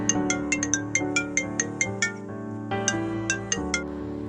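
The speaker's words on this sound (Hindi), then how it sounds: "उसका फ़ोन बजता है।" A mobile phone ringtone plays a repeating melodic chime pattern of bright, ping-like notes over sustained tones, loud and clear with no talk.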